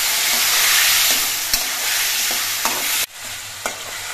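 Spices and potatoes fry in a pan while being stirred, giving a loud close sizzle with scraping strokes, then a sudden drop and hiss as a little water from boiled banana stem goes in, followed by a few more stirs.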